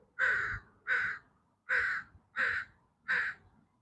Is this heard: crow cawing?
yes